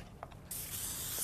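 Cooking spray aimed into a 9x13 cake pan, a faint couple of clicks and then a steady, close hiss of spray that continues to the end.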